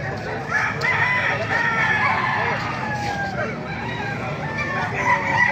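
A talisay-colored gamefowl rooster crows loudly nearby over other roosters and clucking birds, with someone talking in the background.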